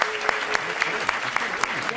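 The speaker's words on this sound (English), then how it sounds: "another round of applause for this amazing panel" Audience applause for a panel at a public forum on funding New York City parks, a steady wash of many hands with sharper individual claps standing out, sustained throughout at moderate loudness.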